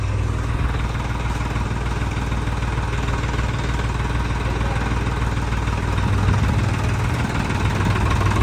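A tractor engine, a John Deere or Swaraj, idles with a low, steady, heavy chugging drone that stays close and loud throughout, with no voices over it.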